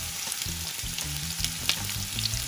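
Onion sizzles in hot oil in a pan for escabeche, a close, steady crackling fry with light stirring scrapes and a few sharper pops.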